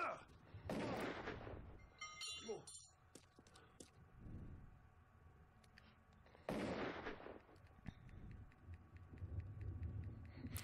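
Gunshots ring out in the video game Heavy Rain, a few sharp, loud reports with reverberant tails spaced several seconds apart, among quieter rumbling ambience and faint voices.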